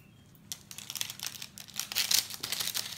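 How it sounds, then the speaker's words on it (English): A knife slicing through a freshly baked, still-hot quiche turned out of its tin, giving close, crinkly crackling and soft tearing of crust over a few seconds, with no talking. "I'm going to cut it to show you now"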